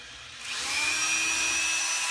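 A handheld rotary tool revs up within half a second to a higher speed, then holds a steady, close, high-pitched whine with no talking.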